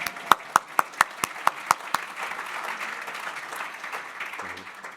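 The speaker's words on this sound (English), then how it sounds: "We can also applaud for the media members" A handful of sharp, evenly spaced claps ring out near the start of an annual meeting, then give way to scattered, softer applause and room murmur from the audience.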